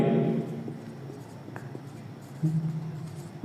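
Pen or marker writing during a maths lesson, faint scratchy strokes in short bursts against a quiet room hum, with no talk over them.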